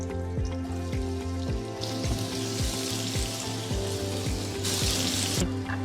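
Chopped onion sizzles in melted butter in a pan, a constant crackling fry under repeated tonal scraping or tapping sounds, with bursts of brighter hiss partway through.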